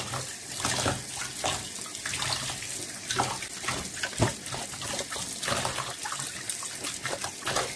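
Tap water runs steadily into a sink while tripe is rinsed under it by hand, with uneven splashes and gurgles as the water breaks over the meat.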